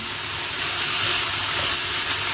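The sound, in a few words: onion and chicken frying in a pan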